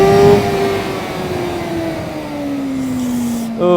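Sport motorcycle, a KOVE 450RR or CFMOTO 500SR, revving hard under acceleration with a loud, high engine whine that slides downward, ending in a sharp rise as the next gear pulls.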